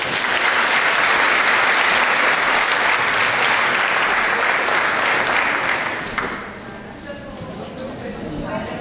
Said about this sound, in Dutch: Uw applaus voor mevrouw Lydia Peters.